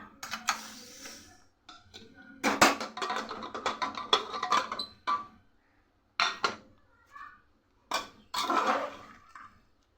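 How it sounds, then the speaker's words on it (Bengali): Metal clanks and clatter of a pressure cooker lid being handled and opened, several short bursts separated by brief quiet gaps, close by. "এবার প্রেশার কুকারটা খুলে দেখায়"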